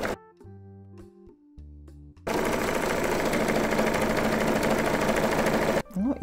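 A Bernina sewing machine stitches a T-shirt seam, starting with a few short stop-start bursts and then running in a steady, loud, continuous whir for several seconds before stopping abruptly.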